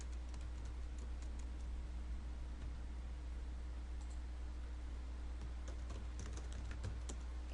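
Steady, rapid keyboard typing with irregular bursts of key clicks over a faint background hiss, close and fairly quiet, no voices.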